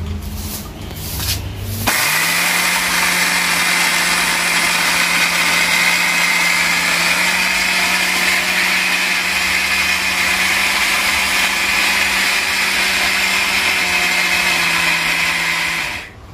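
A mixer grinder starts up after a few clunks and grinds rice in its jug with a loud, steady motor whine that runs continuously at close range before cutting off at the end.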